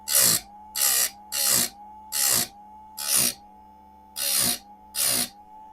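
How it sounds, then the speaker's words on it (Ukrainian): A Vitals Professional ZKA 8511s chain sharpener grinds a saw chain in seven loud, separate bursts of harsh hissing grinding, each lasting about half a second, over the machine's steady motor whine. "оцей натягуємо рукою і починаємо гострити"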